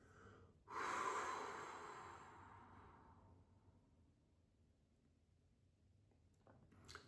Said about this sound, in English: Now we're going to let it all exhale